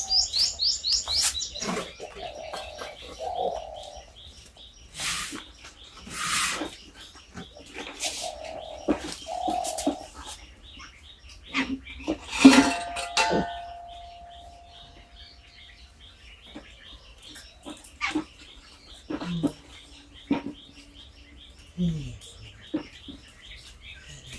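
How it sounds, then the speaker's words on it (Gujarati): Sparrows chirp in scattered, intermittent bursts around a home. The calls are light and moderately close, separated by quiet gaps, and a voice speaks now and then. "ચકલીઓ અમારી આવી ગઈ છે બહુ જ ચકલીઓ આવી ગઈ છે"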